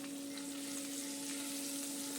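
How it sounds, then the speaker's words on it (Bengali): Boiled eggs frying in oil in a pan give a steady, even sizzle that runs unbroken and fairly quiet, with no talking. "আমি পাশে ডিমগুলো ভেজে নিলাম"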